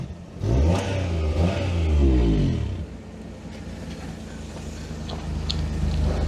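A Daihatsu Sirion's exhaust, tailpipe disconnected, gives a loud throaty rev burst with a chuffing low rumble, then drops back to a steadier, quieter idle drone.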